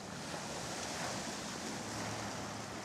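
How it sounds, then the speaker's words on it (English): The ebb tide current rushes past Hurst Point, a steady broadband roar of fast-moving water, close and unbroken, with wind noise mixed in and no voices. "This is the ebb tide at Hurst Point, and it is ripping."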